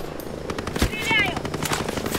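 Automatic gunfire rattles in rapid bursts during a firefight in the tactical shooter Ghost Recon Breakpoint, loud and close, mixed with game effects and a voice talking over it.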